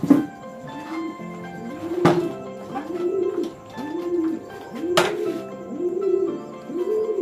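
Imported pigeons in a loft give rhythmic, repeated low coos, close and clear, punctuated by a couple of sharp knocks or thumps against a quiet background.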